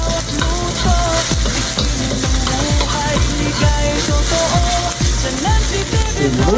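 Garlic sautés in hot oil for pansit, a steady loud sizzle broken by repeated rhythmic scraping strokes of a utensil stirring the pan, close up and without talk.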